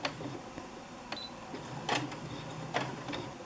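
Faint whirring of a domestic sewing machine running a short reverse backstitch, a soft continuous hum broken by a few sharp clicks and taps.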